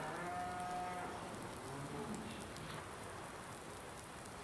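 Cattle mooing on a farm in the video game Farming Simulator 19, one drawn-out low moo near the start over a steady patter of rain-like ambience, with no voices.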